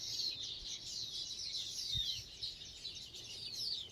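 Small birds chirp and tweet in a home garden with aloe, lilies and a coconut tree, a steady high twittering throughout, fairly faint and distant, with a brief low thump near the middle.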